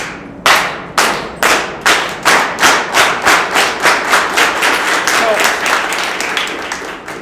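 A group claps in unison, slow at first then speeding up into a steady rhythmic beat at a public remembrance event honoring Cesar Chavez at ASU, about two dozen sharp claps, loud and close, with no talk over them.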